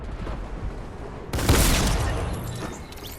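A loud shotgun blast in Fortnite Season 10 erupts partway through, a sharp broadband burst with a rumbling tail after a stretch of quieter game sound.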